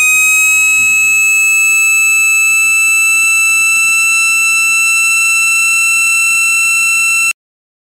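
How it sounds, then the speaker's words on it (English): A loud C3 siren wails continuously, holding steady high tones while a low tone slowly winds down, then cuts off abruptly. "you have a C3 siren"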